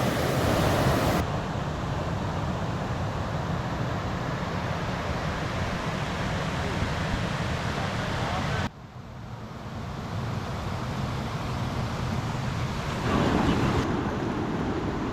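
Steady broad rush of the Hoh River flowing beside a rainforest campsite in Olympic National Park, continuous and full for fifteen seconds with a brief dip midway, no voices.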